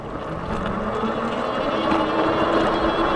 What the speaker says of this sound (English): we'll just do a quick top speed run here so you can see the top speed